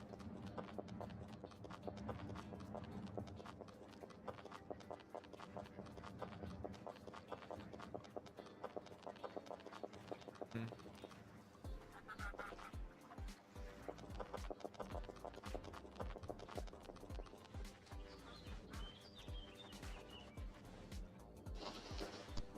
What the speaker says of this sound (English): Horse, horse, horse.